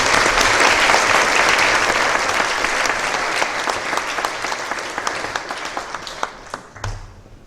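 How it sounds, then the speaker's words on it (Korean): A church congregation applauds a pastor stepping up to the pulpit at a retirement and ordination thanksgiving service, with dense sustained clapping that gradually thins into scattered claps before fading out. "목사님 등단하실 때 박수로 축복합니다"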